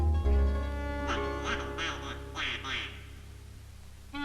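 A goose honks several times in quick succession as a sound effect in a Hungarian folk tale, over a steady low hum.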